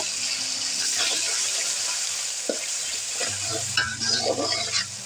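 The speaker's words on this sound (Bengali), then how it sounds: "আমি এখন মশলাটাকে ভালোভাবে কষিয়ে নেব" Spice paste with turmeric fries in a pan under a steady sizzle, with intermittent stirring scrapes and utensil knocks close by, growing busier toward the end.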